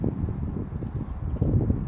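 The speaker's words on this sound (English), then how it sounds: "I do have to apologise for the wind because it's very windy out here today." Strong wind buffets a microphone outdoors in Scotland, a constant low rumbling roar with gusty surges and no voices.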